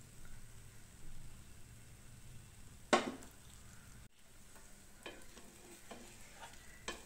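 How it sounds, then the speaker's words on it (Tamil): Oil added to an adai dosa on a pan gives a faint, steady sizzle, broken by one brief clatter near the middle. "இப்போ வந்து கொஞ்சமாக எண்ணெய் போட்டுக்கலாம்."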